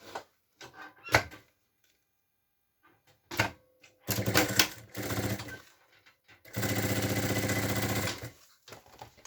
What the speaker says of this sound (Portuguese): vou só aplicar aqui, guiar-me pela costura e vou só fazer o pesponto